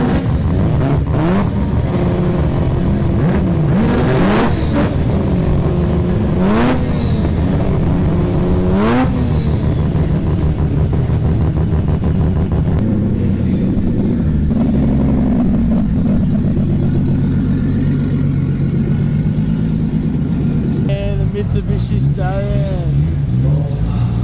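Modified show cars leaving for a parade rev their engines hard, with antilag pops and crackles over a loud, continuous engine drone, close by, while people talk in the background.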